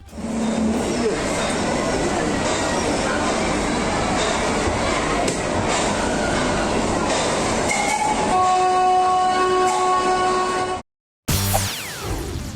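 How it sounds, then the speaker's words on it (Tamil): A mountain train bound for Ooty rumbles and clatters along loudly, its horn blaring near the end before the sound abruptly cuts out. "உதகைக்கு காலை ஒன்பது பத்து மணிக்கு மலை ரயில் புறப்பட்டு சென்றது"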